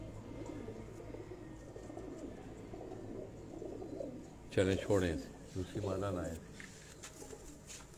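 Bateray breed pigeons coo softly on a rooftop, low rolling calls throughout with a louder burst midway, while someone speaks over them.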